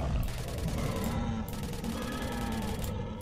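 Loud, dense gunfire in S.T.A.L.K.E.R. as boars are shot, with rapid overlapping bursts that continue almost without pause.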